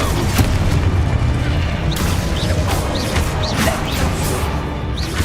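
The Confringo fire blast spell goes off in the video game Hogwarts Legacy, a loud, dense booming crash layered with whooshing bursts that fills the whole stretch without a break.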